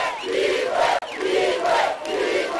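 A large crowd of political supporters cheers and shouts continuously at a rally at a roundabout in Kinshasa, DR Congo, a loud, dense roar that swells and dips with no clear speech.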